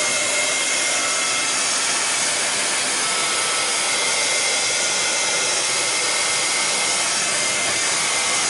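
A hair dryer blows steadily and loudly on a print for about eight seconds, a continuous broadband whoosh with no talking over it.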